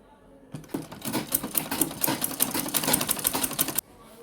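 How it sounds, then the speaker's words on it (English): A sewing machine top stitches a zipper on a coin purse in one close burst of rapid, rattling stitching of about three seconds. It starts and stops abruptly, with quiet on either side. "Next, we top stitch it so it looks very neat."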